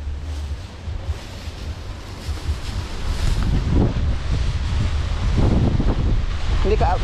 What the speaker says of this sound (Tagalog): Ang lakas ang hangin na.